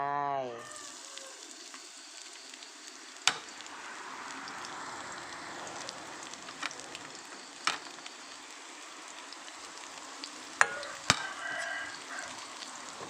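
Steady oil sizzling in a pan as pounded garlic and chili fry, with a few sharp clinks of a utensil against the pan, no talking.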